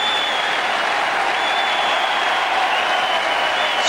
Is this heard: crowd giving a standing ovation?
yes